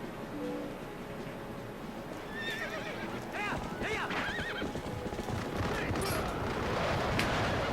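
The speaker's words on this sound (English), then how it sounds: "Get on the horse. Come on, Link." A horse whinnies and gallops in the Zelda Twilight Princess finale, several loud rising neighs over rapid hoofbeats, with battle noise and clattering around it.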